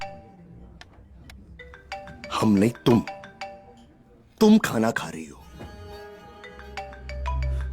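A mobile phone ringtone plays in a Hindi film scene at a meal, its melodic electronic tones ringing at the start and again toward the end while people talk loudly in between.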